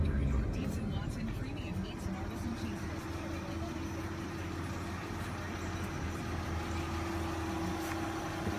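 A 1999 Mercedes-Benz ML320 idles steadily with a low, constant engine hum and no revving, its even drone running beneath faint background noise throughout.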